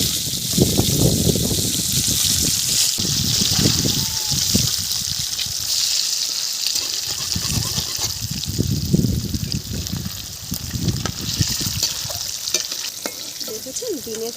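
Eggs frying in hot oil with turmeric, with a steady close sizzle, crackle and occasional stirring scrapes running throughout.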